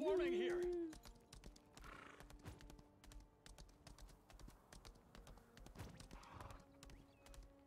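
Steady clip-clop of a horse's hooves as a character rides through the video game Lost Ark, an even, moderately quiet trotting rhythm mixed with game effects and a brief loud tone at the start.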